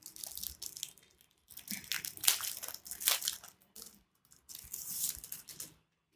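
Packaging of a Card Sharp credit card folding safety knife being opened, with faint crinkly crushing and tearing bursts in three bursts separated by short pauses, close and quiet with no talk.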